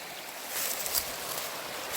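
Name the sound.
stream flowing from a pond, Mountain Brook Trail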